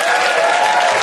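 Studio audience of a British TV game show cheering and applauding loudly, a dense, steady roar of many voices and clapping hands sustained throughout, close and full with no break.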